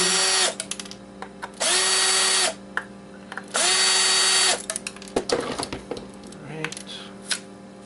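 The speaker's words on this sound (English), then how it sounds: "Let's unscrew these." A power drill backs screws out of Xbox hard drives in two sustained whirring bursts, loud and close, with small metallic clinks and handling clatter between and after.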